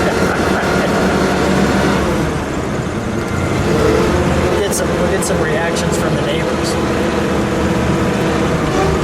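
A 1931 Hudson Series U Phaeton open car on a ride, its engine and road rumble running steadily beneath people talking in the car.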